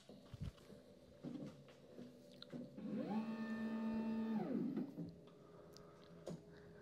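An Xtool S1 laser engraver marking a position on a curved surface gives a brief motorized whir that ramps up, holds steady for about two seconds and winds down, among faint clicks and handling noises.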